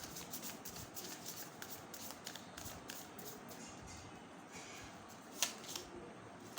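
A deck of quantum oracle cards is shuffled by hand, giving a steady papery riffling and rustling that runs throughout, with a sharper snap near the end.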